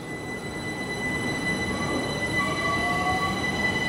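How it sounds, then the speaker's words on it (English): A Class 387 electric train passes through Clapham Junction, with a steady rolling rumble and thin, high electric whines and faint wheel squeals throughout. "And there's another 387 passing by as well."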